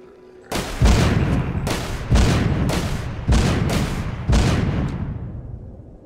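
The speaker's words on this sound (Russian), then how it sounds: "Эй-эй-эй, почему такие взрывы?" Four heavy booming explosions in The Walking Zombie 2 go off at steady intervals, each followed by a long rumbling decay, loud and close.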